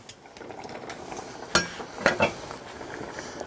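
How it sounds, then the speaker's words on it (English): Pineapple pieces go into a pan of simmering sweet and sour sauce on lowered heat. Soft background noise is broken by a few sharp clinks of a utensil against the pan, each standing out clearly. "So I'm going to add my pineapple"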